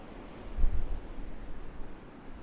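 Broad, rushing wind noise rises into a stronger gust and then settles back to a steady, breathy roar outdoors.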